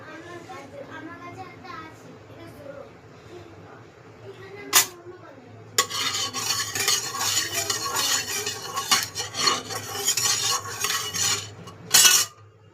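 Potatoes go into a pot for khichuri with minced goat meat and are stirred: someone talks at first, then metal spoon scrapes and pot clanks ring out in quick bursts.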